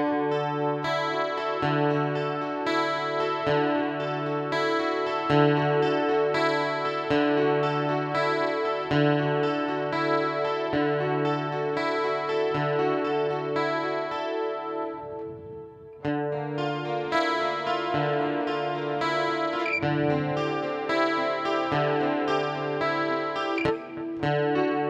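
An acoustic-electric guitar is played through a Boss ME-80 multi-effects unit with reverb and delay, sounding sustained, ringing notes and strummed chords that trail off in lush echoing tails, with no talking.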